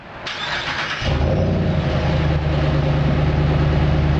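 A 2017 Ram Hemi V8 fitted with a 3-inch Powerstick exhaust fires up with a sharp starter burst, then settles into a loud, deep, steady idle rumble that stays close and continuous.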